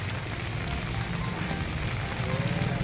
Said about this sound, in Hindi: आओ देखन बहुत वर्षा बरसी सब हलान